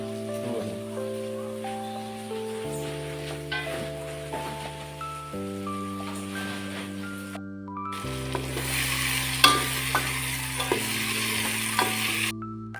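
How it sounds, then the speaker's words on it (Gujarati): Cut potatoes hitting hot frying masala in a pan for rasiya bhaat, a soft continuous sizzle with stirring scrapes, while sustained musical tones play over the cooking. "હવે આપણે નાખીશું બટેટા કટિંગ કરેલા"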